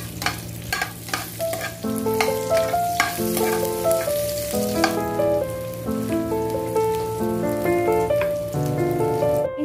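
Garlic and onion frying in a pan for a fish steak dish, a dense continuous sizzle with stirring clatter, heard over background music without any talk.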